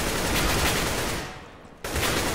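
Gunfire in a competitive shooter video game match, loud and near: rapid, continuous bursts that dip briefly into a quieter gap, then resume abruptly at full strength.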